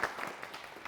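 An audience at a team quiz competition gives a short burst of applause, light scattered clapping that is fairly faint and brief.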